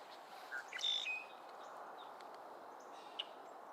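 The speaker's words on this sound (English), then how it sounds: "These are yellow-rumped warblers of the myrtle variety" Yellow-rumped warblers of the myrtle variety calling in a quiet part of Jonathan Dickinson State Park: a few short, high, thin chirps at moderate distance over a steady hiss of background insects.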